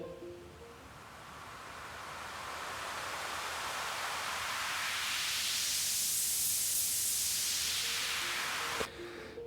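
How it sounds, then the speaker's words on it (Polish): Broad hiss of white noise swells gradually louder and brighter, peaking near the end before cutting off abruptly. "jest to zwykły szum"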